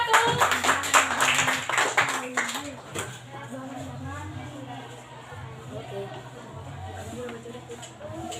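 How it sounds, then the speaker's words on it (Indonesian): An audience claps in applause for the first presenting group in a classroom, with a burst of clapping at the start that fades into chatter and a speaking voice. "kita berikan tepuk tangan untuk kelompok 1"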